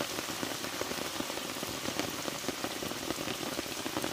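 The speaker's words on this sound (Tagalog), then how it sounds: "Lorok ang ulan." Heavy rain pours steadily by a river, a dense, even roar of drops hitting surfaces with scattered sharper patters, continuous and close, with no talking.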